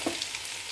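Crushed mango-ginger spice mix hits hot oil with popped mustard seeds, giving a brief, steady close sizzle.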